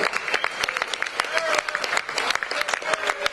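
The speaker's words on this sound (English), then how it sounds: "so round of applause" Applause from a banquet dinner crowd at a casino, sustained dense clapping that fills the room, loud and near, with voices mixed in underneath.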